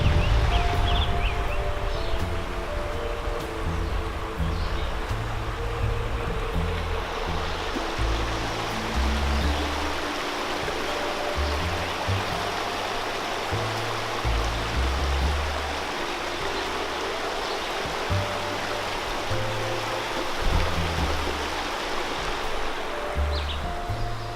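A river rushes past the upper side of a dam on the Erie Extension Canal, a constant loud roar of churning water that stays steady and close with no voices.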